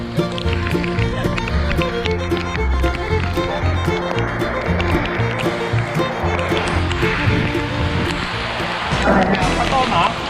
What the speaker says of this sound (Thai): ภูแรกก็มาเจอฝนนั่นแหละ มีตกหนักมากนะครับเนี่ย